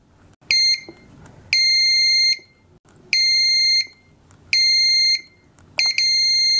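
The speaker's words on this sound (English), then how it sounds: "buzzer is sounding." A buzzer wired into a float magnetic reed liquid level sensor circuit gives five loud, steady electronic beeps, each about a second long with short gaps between, sounding alone.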